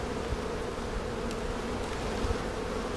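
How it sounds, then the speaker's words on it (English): Honeybees hum in a dense, steady buzz around an open hive during oxalic acid treatment, close and continuous for the whole stretch. "Try not to squish too many bees."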